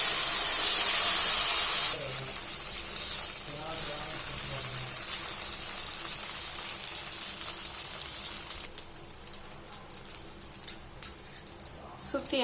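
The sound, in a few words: adai batter poured onto hot oiled dosa pan, sizzling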